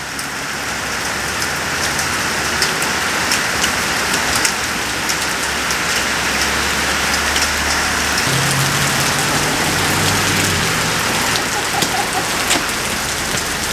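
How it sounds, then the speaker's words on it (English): Rain drumming hard on a surface with sharp scattered ticks like hailstones, a steady loud downpour with a low hum beneath. "And now a bit of hail for good measure."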